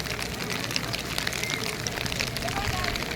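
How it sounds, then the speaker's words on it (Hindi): Rain falls steadily at the Taj Mahal, a dense, even hiss of drops on surfaces filling the scene throughout, with a crowd murmuring faintly beneath it. "बारिश हो रही है"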